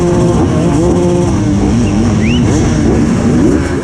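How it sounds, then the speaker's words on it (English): Motocross bikes pulling away at a race start in the woods at Hawkstone Park, loud close engines revving and climbing in pitch, several machines overlapping in a continuous roar. "The bikes are not going straight away there."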